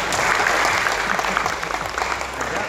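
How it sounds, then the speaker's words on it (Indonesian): Steady, dense applause from a large seated audience at a Hajj pilgrimage guidance session, continuous clapping throughout at fairly close range. "Dan tepuk tangan bersama kita."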